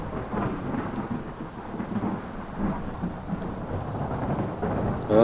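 Steady heavy rain pours down with low rumbles of thunder rolling underneath, a dense continuous storm with no voices.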